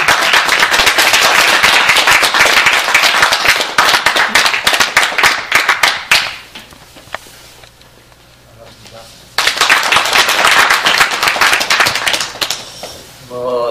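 An audience at a citizens' network founding assembly claps loudly and densely for several seconds to welcome a speaker, drops to a quiet room briefly, then bursts into strong applause again.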